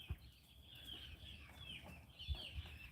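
Chickens cluck and scurry about in a farmyard in the evening, with faint scattered clucks and light rustling, a few soft thumps near the start and end.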